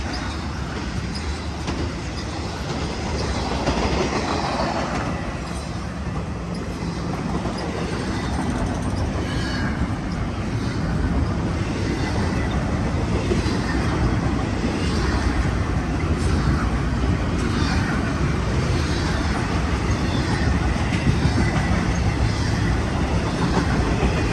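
A BNSF intermodal freight train passes westbound through LaGrange, Illinois, as a loud, continuous, close rumble of rolling cars with faint wheel clatter, steady throughout with no speech.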